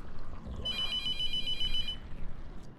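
Telephone in the horror game The Mortuary Assistant rings with a bright electronic trill lasting over a second, fairly close and clear above a low dull background, with no talking.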